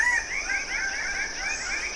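Birds of paradise calling in an Indonesian rainforest: repeated rising whistled notes over a constant high insect drone, moderately loud and steady, with no talking.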